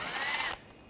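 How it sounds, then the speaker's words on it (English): A ratchet with a T20 socket turns out a bumper screw on a 2013-2022 Buick Encore, giving a brief close clicking burst that stops after half a second. "Now you want to remove these two screws on each side. Use a T20 socket."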